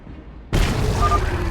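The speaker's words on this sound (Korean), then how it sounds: "독성 변종, 맹독성 폭발 물질 분출, 대상 지역에 있는 적들에게 피해를 줌" A toxic Ultralisk blast in StarCraft II: near-silent ambience abruptly breaks into a loud, broad explosive burst that holds as a dense, steady roar for about a second with a faint tonal whine inside it.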